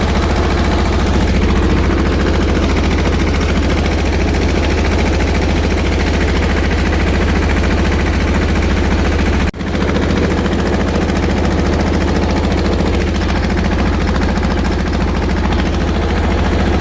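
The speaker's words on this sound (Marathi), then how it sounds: "ट्रॅक्टर लावलं बघा वरंगळीला" A farm tractor engine runs steadily on a rainy farm, a loud continuous low drone that barely varies apart from one brief dip midway, with no voices.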